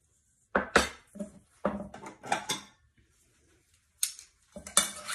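Orange chicken pieces being tossed in orange sauce inside a small bowl, giving several close, clattering utensil-and-bowl knocks in short bursts with quiet gaps between.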